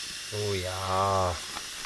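Milkweed cooking over an outdoor survival fire gives a steady, soft sizzling hiss, partly covered by a voice exclaiming over it.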